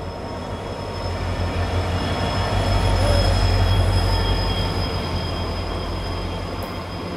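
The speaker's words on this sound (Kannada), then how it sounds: "ಮುಂದೆಯಿಂದ ಕ್ರಾಸಿಂಗ್ಗೆ ಒಂದು ಟ್ರೈನ್ ಬರ್ತಿದೆ" At a level crossing near BG Nagar, a train rolls past close by with a loud, steady rumble of wheels and cars, a thin high wheel squeal running above it for several seconds.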